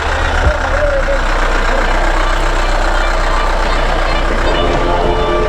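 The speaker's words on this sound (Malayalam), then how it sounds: "ജീപ്പ് വരുന്നുണ്ട് കേട്ടോ." A jeep engine drones loudly and steadily close by while crossing water on an offroad trail near Kappakanam waterfalls, mixed with broad outdoor noise.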